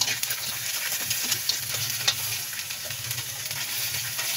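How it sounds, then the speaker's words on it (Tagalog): Crabs in coconut milk with taro stirred in a sizzling pot: a continuous bubbling fry with steady hiss and occasional soft scrapes of a utensil, close and even throughout. "Haluin lang guys, haluin"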